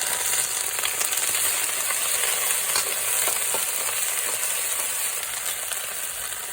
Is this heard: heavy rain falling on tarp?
no